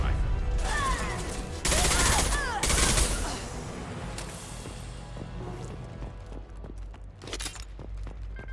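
Rifle fire from a soldier in Mass Effect 2, heard in loud bursts early on, followed by lower-level battle noise with sporadic shots and voices talking over the action.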